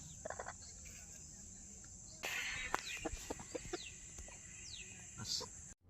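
Faint, intermittent clucks from a native village rooster over a constant background of chirping crickets.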